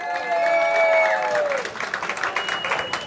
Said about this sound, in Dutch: Mag ik een applaus voor deze twee dames?